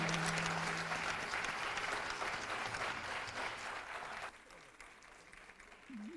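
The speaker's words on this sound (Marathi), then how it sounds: "तरीसुद्धा वाजवा जोरदार टाळ्या." Applause from an audience at a Guru Purnima festival gathering, dense clapping that carries on for about four seconds, then thins out and fades with some background noise.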